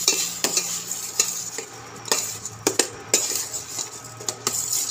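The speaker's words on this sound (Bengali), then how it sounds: "এই ঘিয়েতে দিয়ে দেব। চালটাকে প্রথমে ভেজে নেব।" Gobindobhog rice frying in ghee is stirred with a metal utensil, giving repeated scraping clinks against the pan over a soft, continuous sizzle.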